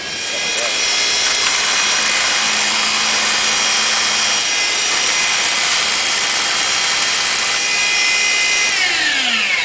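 An AC induction motor converted into a permanent magnet generator spins up with a loud, steady whine that holds for the whole stretch, its tone sliding slightly near the end.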